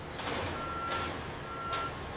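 A truck's backup alarm beeps steadily in slow, even pulses while the truck reverses into a loading bay at a peanut processing plant, with a soft whoosh of air brakes and a low engine rumble.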